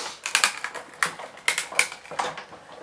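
A die-cutting machine presses through a window sheet with a series of sharp, close clicking and clacking bursts, roughly a dozen irregular snaps in quick succession, with no voice.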